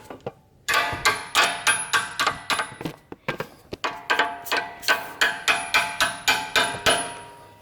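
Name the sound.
hammering out a strut bolt on a Saab 9-5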